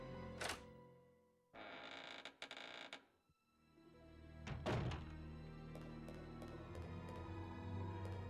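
Heavy thumps in the Resident Evil Code: Veronica video game: a sharp knock, then a loud booming thud with creaking and a sustained low hum, followed by several lighter ticks.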